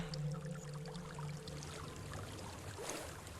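Steady rushing waterfall in the fantasy game Hellblade: Senua's Sacrifice, a continuous broadband wash of falling water with a low droning hum underneath, constant and fairly close throughout.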